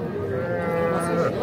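A young bull calls out at a busy cattle market, a sustained low moo carrying over the crowd noise and nearby voices.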